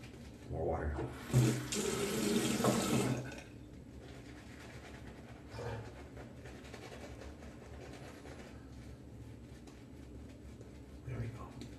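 A second burst of tap water runs into a container for roughly two seconds, fairly loud and splashy, before cutting off to low background noise with a few faint knocks and a short trickle near the end, outdoors in the Arctic.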